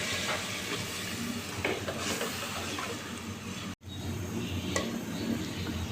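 Masala spices sizzling and frying in oil for chicken nihari, with steady close crackle, occasional stirring scrapes against the pot and a brief dropout partway through.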